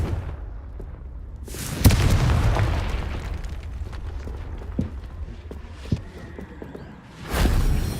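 The Confringo spell in Hogwarts Legacy detonates in a loud blast, followed by a rumbling tail and scattered crackles, and a second burst sounds near the end.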